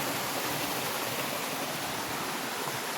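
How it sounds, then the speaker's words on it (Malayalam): A small stream flowing through a scenic plantation area, with a steady, continuous rush of water close by and no voices over it. "ചെറിയ മോശമില്ലാത്തൊരു അരുവി വന്നോ"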